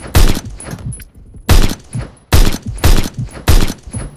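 LMG gunfire in the video game Phantom Forces: five loud, sustained bursts of automatic fire at a steady pace, separated by short gaps, with no talking.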